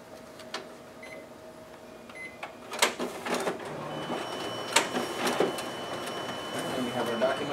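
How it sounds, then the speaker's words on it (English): A Ricoh MP C4000 copier's document feeder runs: a steady mechanical whir with sharp clicks and rattling bursts as test sheets pass through, while a person talks nearby. "And we have our document feeder working."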